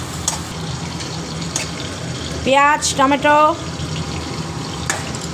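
Water runs into a mixer grinder jar to rinse it, a continuous splashing hiss heard up close in a home kitchen while a voice speaks briefly in the middle.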